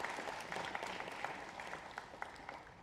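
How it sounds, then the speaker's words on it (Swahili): An audience applauds a National Bureau of Statistics representative at a panel discussion on digital innovation and financial resilience, a short burst of scattered claps heard faintly and at a distance. "Tumpigie makofi mtu wa NBS"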